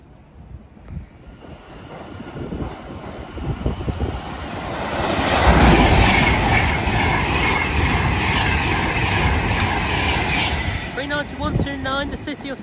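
A train passing through Harrow and Wealdstone station, rumbling louder from the middle onward into a sustained roar with a thin high whine, while a voice talks over it.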